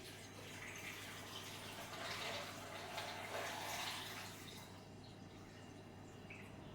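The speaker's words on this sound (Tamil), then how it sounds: "உப்பு தண்ணி நல்லா கொதிக்க வச்சு ஆறின தண்ணியை நம்ம இதில் ஊற்றிடலாம்" A steady, rushing stream of boiled and cooled salt water pours into a jar for several seconds, swelling slightly in the middle before easing off, with no voices.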